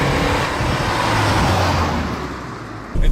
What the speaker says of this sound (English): CVT kind of acceleration pattern, which means a lot of noise and not a lot of power